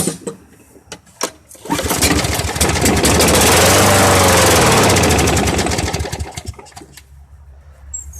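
An old push lawn mower engine pull-started: a few cord-pull rasps, then the engine sputters up into a loud, close roar for several seconds before dying back down, suggesting it is not staying running.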